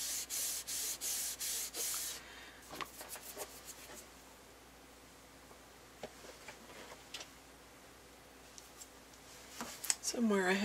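An embossing buddy is rubbed briskly over paper in several quick, rhythmic swipes at the start, followed by light handling noises and a faint voice speaking nearby.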